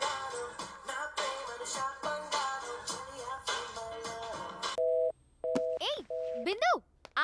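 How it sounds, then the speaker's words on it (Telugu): A phone call's ringing tone sounds in short, evenly spaced electronic pulses after a stretch of people talking, clear and close over a quiet line. "వాడికి ఫోన్ కలుపు, నేను మాట్లాడతా."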